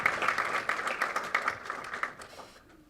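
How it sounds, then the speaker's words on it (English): Audience applause at an ISKCON dharma talk event, a brief, moderately distant burst of clapping that tapers off and fades out within a few seconds. "give a round of applause to Dr. Sudhir Parekh's lifetime of seva"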